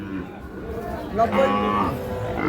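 A Sahiwal bull calf lows once at a busy cattle market, a fairly close moo rising midway, with people talking around it.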